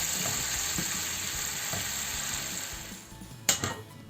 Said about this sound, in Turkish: salça kokusu çıkasıya kadar kavurmaya devam edelim